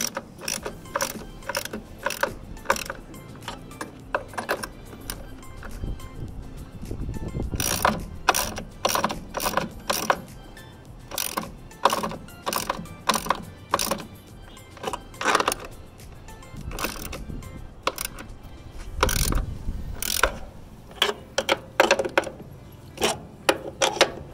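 A ratchet wrench tightens the mounting hardware on a whiskey barrel light post, with rapid clicking bursts repeating in close succession, pausing briefly between strokes; loud and near, with no talking.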